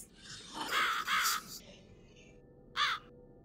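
Crow in The Cat Lady video game caws loudly, two harsh back-to-back calls followed by a single caw after a pause, with no other sound.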